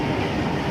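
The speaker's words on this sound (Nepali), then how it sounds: "अर्को तर्फको ट्रेन जाँदैछ।" A train passes through a station in Europe as a dense, steady rumble and rattle that fills the whole brief moment, fairly faint, with no voices.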